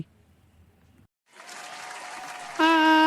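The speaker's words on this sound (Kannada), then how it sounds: "ಅವರಿಗೆ ಎಲ್ಲರೂ ಜೋರಾಗಿ ಚಪ್ಪಾಳೆಯನ್ನು ತಟ್ಟಿ" An audience applauds at a village Independence Day celebration. The clapping starts after a short silence, then swells louder and steadier with a bright tone joining near the end.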